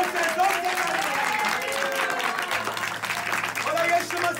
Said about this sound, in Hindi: जोर से ताली बजाएंगे यीशु मसीह के लिए।